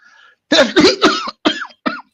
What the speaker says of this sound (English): I had a little cough.